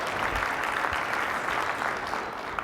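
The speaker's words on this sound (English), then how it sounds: "those are the people who need a round of applause" An audience applauds warmly for several seconds, a steady dense wash of clapping from a large crowd in a hall that holds evenly and then tapers off at the end.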